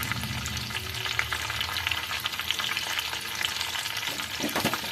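Tempering spices fry in oil with asafoetida, giving a continuous close crackling sizzle with light stirring scrapes throughout.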